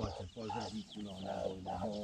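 Hen and chicks cluck and peep in a backyard poultry run, chirpy calls rising and falling close by while a person talks over them.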